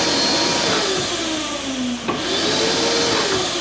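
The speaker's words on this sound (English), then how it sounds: "it always helps when your vacuum's plugged in. So when you open this valve up, it turns on." A shop central vacuum system spins up as a valve is opened, a loud steady motor whine with rising pitch that settles into a constant roar, with a brief dip midway.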